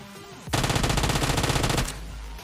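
Automatic gunfire in the mobile battle royale game PUBG Mobile, a loud, rapid burst of evenly spaced shots lasting just over a second and then stopping abruptly, heard alone.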